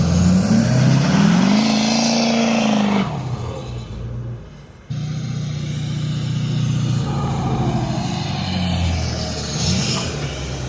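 A Duramax diesel pickup truck doing a burnout gives a loud, close engine roar with a rising then falling rev sweep. The roar drops off sharply for a moment, then a steady heavy rumble returns.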